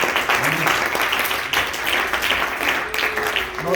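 A church congregation claps loudly and continuously during a sermon, a dense, close patter of many hands with a voice briefly under it.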